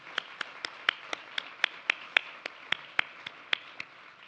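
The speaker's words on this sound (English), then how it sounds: "please give a round of applause to these champions in our state" A luncheon audience gives a round of applause, heard as a sparse, evenly spaced series of sharp individual claps rather than a dense roar, moderately near and without talk.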